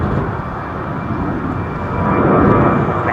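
An Etihad airliner at London Heathrow Airport rumbles with a broad, steady engine roar that swells slightly toward the end, heard from a distance with no voices.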